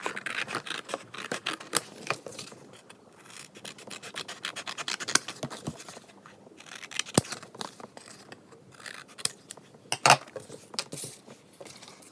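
A cardboard tube is cut with scissors, giving sharp snips and scraping rubs of blade on card in irregular bursts, close by and fairly quiet, with no speech.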